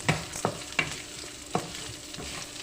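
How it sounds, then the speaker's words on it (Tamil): Lentils roasting in hot oil for a mint chutney powder, a soft sizzle with regular sharp scraping strokes of a spatula stirring the pan, fairly quiet and without talk. "ஒரு நிமிஷம் வறுத்தா போதும் அந்த பருப்பு ப்ளஸ் இந்த எண்ணெய் ஹீட் இருக்கு இல்லைங்களா இதிலே வந்து நல்லா மொறு மொறுன்னு ஆகிடும்"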